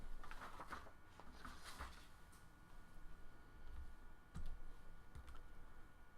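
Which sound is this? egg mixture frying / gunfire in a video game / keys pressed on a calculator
keys pressed on a calculator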